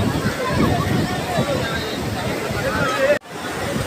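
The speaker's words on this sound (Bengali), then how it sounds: "আর ঢেউ দেখো কত বড় বড়।" Big sea waves roll in and wash up at Udaipur beach near Digha, a continuous loud surf roar with a brief cut near the end, while people talk over it.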